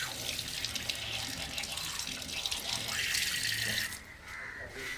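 A tap near the Shakti Maa temple in Chhaniya Thar runs steadily with a full, close hiss of flowing water for drinking, then drops to a softer trickle near the end.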